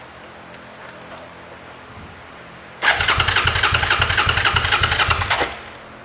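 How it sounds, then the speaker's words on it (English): A Suzuki SV 650S motorcycle engine cranks and fires, settling into a loud, close, pulsing idle for a few seconds before cutting off abruptly. "so now let's fire it up."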